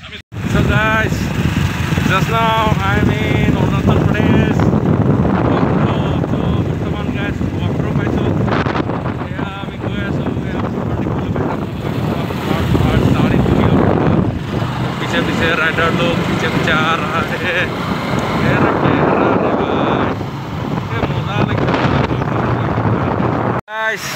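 A Hero Super Splendor motorcycle rides along a road, its engine hum buried under heavy, constant wind buffeting the microphone, with a voice talking at times.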